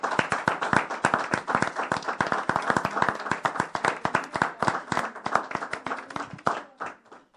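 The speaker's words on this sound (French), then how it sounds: "On acclame Jésus encore" A church congregation claps and applauds together in rhythm during a worship service, dense loud hand claps continuing steadily before thinning out at the end.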